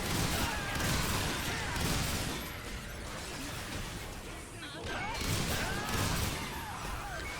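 Blast Twin Spears M4 attacks from the Fencer in Earth Defense Force 4.1, a dense run of crashing, bursting impacts and mechanical clatter with no pause, loud and continuous for the whole stretch.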